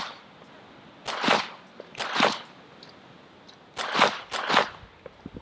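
Four sharp shots fired from a 2011-style handgun at an outdoor range, arriving in two pairs a little apart, each a loud crack with a short ringing tail.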